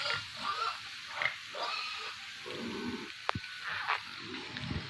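A white pig grunts and snuffles close by in a series of low, rough grunts, with farm background noise and one sharp knock.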